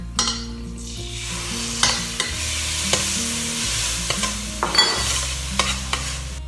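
Ground coriander and laksa paste fry in a 6-quart electric roaster for seafood laksa, a steady close sizzle with repeated scraping stirs and light utensil clinks, no talking.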